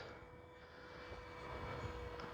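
A steady, distant engine drone of a radio-controlled Kavan Bristell B-23 model airplane hums overhead, rising slightly in loudness, with faint wind in the background.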